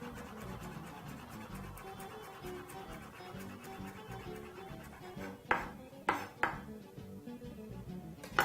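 Fresh parsley is chopped with a knife on a board, a few distinct sharp knocks standing out near the end against a quiet kitchen background.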